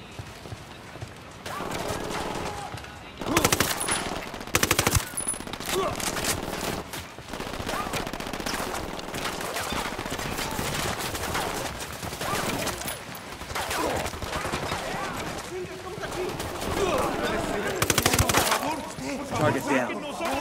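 Heavy gunfire in Ghost Recon Wildlands, with loud automatic bursts and single shots crackling over a busy game soundscape, mixed with voices talking throughout.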